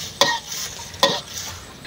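Star gooseberry leaves deep-fry until crisp in a close, crackling sizzle, with two sharp stirring or scraping bursts standing out over the steady bubbling.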